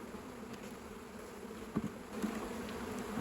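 Honey bees buzz around an open hive during spring beekeeping work, a faint, steady low drone with a few brief louder passes close by.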